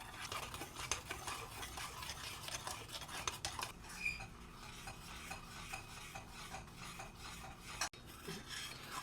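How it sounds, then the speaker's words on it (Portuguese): A spoon steadily scraping and stirring a liquid cocoa cake mixture in a pan as it starts to boil, with continuous rasping strokes at a moderate level and no talking. "Então a gente vai mexendo os ingredientes."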